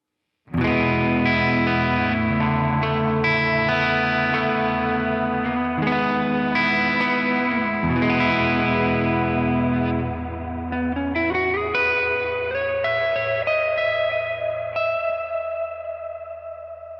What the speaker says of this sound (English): It's just a plate reverb on the Ultra Plate algorithm.